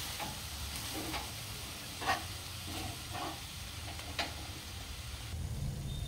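A raw papaya sweet laddu mixture is stirred in a pan, a soft, fairly quiet hiss of cooking broken by occasional scraping strokes of the spoon.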